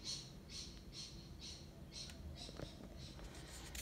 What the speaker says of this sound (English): the birds have all decided to wake up.